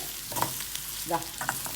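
Small native shallots sauté in a pan, making a continuous close sizzle broken by light scraping and stirring clicks throughout.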